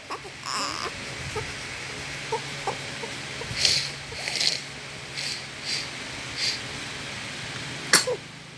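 A short, sharp sneeze near the end, after scattered small fussing and clucking-like noises in a quiet room.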